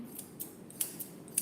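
Dog-grooming scissors snip through a poodle's dense coat in quick, crisp, metallic clicks, about six cuts spaced at an even rhythm, close and quiet.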